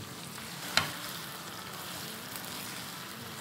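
Slit green chilies fry in hot oil for a tikka karahi, giving a faint, steady sizzle with one sharp pop close up.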